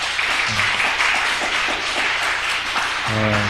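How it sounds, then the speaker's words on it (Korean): Congregation applause at a Sunday morning church service, a dense continuous wash of clapping from a large gathering, with sustained low instrumental tones entering near the end. "우리 크게 박수 한번 쳐주시기 바랍니다."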